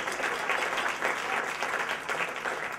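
Audience applause at a burlesque festival mind-reading act, an even, sustained wash of many hands clapping, moderately distant and fairly quiet, with no talk over it.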